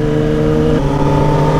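A Kawasaki Ninja ZX-6R superbike engine revs in first gear on a village road, a loud, close, buzzing note that holds steady and then climbs slightly in pitch.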